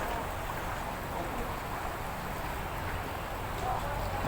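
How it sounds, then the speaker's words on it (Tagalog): Steady heavy rain hisses continuously, a dense broadband wash of falling water with no breaks from start to finish. "Malakas ang ulan."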